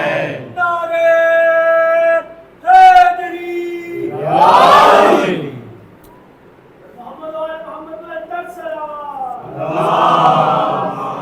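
A crowd at a Muharram gathering chants the slogan Labbaik ya Hussain in loud, rhythmic call-and-response bursts, with strong voiced chanting separated by short pauses.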